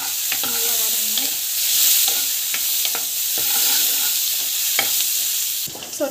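Chana dal, garlic and onion sauté in a hot pan, with a continuous sizzle under repeated scraping and stirring strokes of a utensil against the pan, close and fairly loud throughout.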